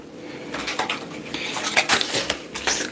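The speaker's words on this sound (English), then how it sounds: "let's go ahead and shuffle these cards." Playing cards shuffled by hand, a run of crisp riffling clicks and flutters, close and fairly loud, with no talk.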